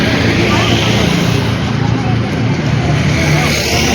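A convoy of eight to twelve vehicles heads for Jambhul Bet. Their engines and tyres make a continuous, loud rumble, and people talk over it.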